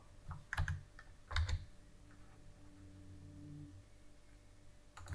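Keyboard shortcut keys tapped on a computer keyboard during 3D modelling in Blender, a few quiet clicks in small clusters over a soft steady hum.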